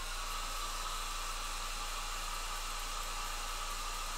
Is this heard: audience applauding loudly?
no